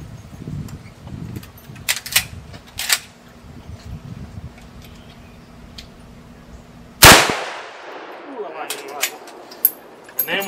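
A single loud 30-30 rifle shot fired at a backpack, close and sharp with a long echoing decay, preceded by quieter handling clicks and murmured voices.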